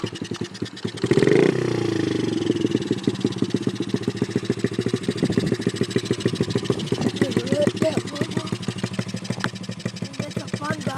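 Dirt bike engine cranked and started, a brief loud whir followed by a rapid, steady idle putter, close and prominent, with people talking over it.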